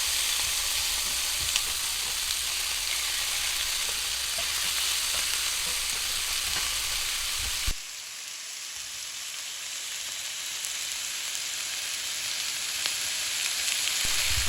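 Taco meat pieces frying flat in a pan, a loud, continuous dense sizzle throughout, with a brief shift in tone midway.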